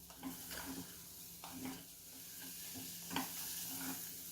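Coconut rice and sugar being sautéed in a pan for narali bhat, with a soft steady sizzle and faint periodic scraping of the spoon stirring, quiet and close.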